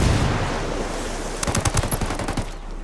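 Rapid gunfire in the tactical shooter video game Tom Clancy's Ghost Recon, a run of sharp close shots and bursts over steady loud background noise, with no talking.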